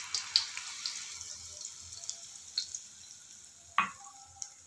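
Suji pakan pitha frying in hot oil, a soft steady sizzle with scattered pops and a brief clatter of a utensil near the end, with no talking.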